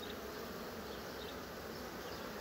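Honey bees buzzing at a full hive box in a bee yard, a dense continuous drone of many insects close by with no talk.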